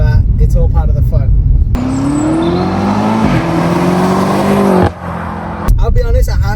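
A BMW F90 M5 engine pulls hard at full throttle, a loud rising engine note climbing steadily for several seconds before cutting off, with talk heard before and after the run.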